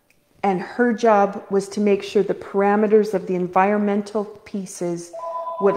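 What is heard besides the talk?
phone ringing during talk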